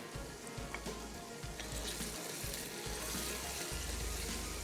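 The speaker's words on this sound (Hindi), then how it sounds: "अच्छे तरीके से मसाले को भूनना है" Masala with white pepper frying in a pot with chicken pieces, a steady close sizzle broken by low thumps and clatter from stirring, with faint running water in the background.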